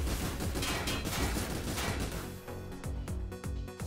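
Rapid gunfire crackles in the tactical video game Frozen Synapse, a dense, loud burst of overlapping shots that thins into a few distinct reports toward the end, with no voices.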